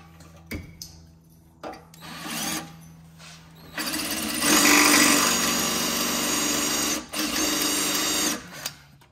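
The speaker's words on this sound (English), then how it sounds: "Of course, it wants to spin while I'm trying to drill it." A power drill whirs in short bursts, then grinds steadily into metal on a 1970 Volkswagen Beetle for several seconds before stopping and starting again.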